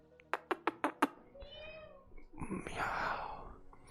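A cat gives a quick burst of five short, sharp meows near the mic, followed by a longer drawn-out meow and a breathy, wailing sound, with faint voices in the background.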